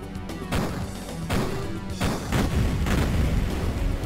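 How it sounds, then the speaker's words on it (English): A ventilation fan shot and blown apart in the shooter game Duke Nukem 3D: a series of loud, booming gunshot and crash impacts, several heavy hits over a few seconds with rumbling debris, no talk. "We could just shoot this fan out and proceed"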